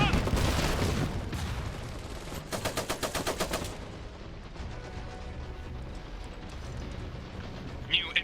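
Battlefield gunfire in the Iron Harvest game: dense rattling machine-gun bursts and booming shots over a rumbling background, with rapid rhythmic volleys that thin out into scattered distant fire.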